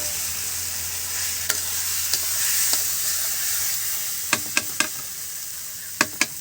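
Boiled lentils hit hot oil with spices and dried red chillies in a pan, making a steady close sizzle. Several sharp scrapes and taps of a spoon stirring punctuate it, and no one speaks.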